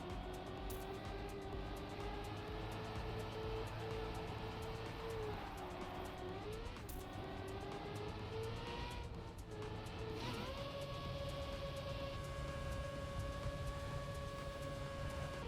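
Race cars in a racing video game, a steady droning engine whine held close and loud, the pitch dipping and rising as the car shifts and slows through corners, with other cars faintly audible around it.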